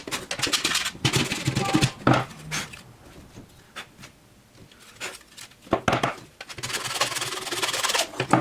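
Metal file rasping back and forth against a plastic or resin miniature model part, Warhammer 40K Centurion kit, in steady close bursts with a quieter pause in the middle before the scraping resumes.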